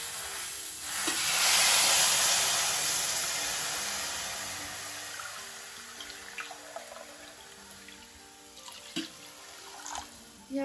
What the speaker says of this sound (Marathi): बघू शकता पाण्याला छान उकळी आली आहे